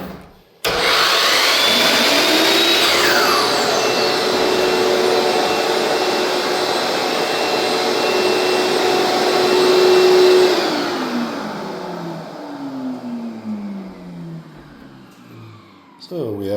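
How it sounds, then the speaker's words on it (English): A Ridgid 12-inch miter framing saw starts together with a Ridgid shop vacuum system, a loud steady whirring roar that holds for about ten seconds close by, then spins down while the vacuum keeps droning more quietly. "When we kick on our saw, our vacuums turn on"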